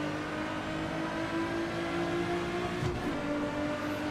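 A race car engine in Assetto Corsa EVO holds a steady, droning note with a brief whooshing sweep near the end, fairly loud and continuous with no talking.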